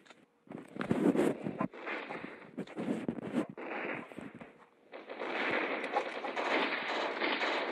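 Gunfire in a Tamil horror short film: a burst of sharp shots and blasts in the first few seconds, followed by a sustained loud, noisy roar.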